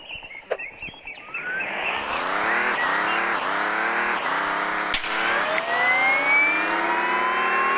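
A car in the Dude Theft Wars video game revs and accelerates through repeated rising gear sweeps, with sharp impact-like hits near the start and later on, and no talking.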